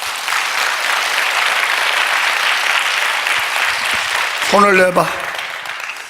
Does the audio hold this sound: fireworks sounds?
no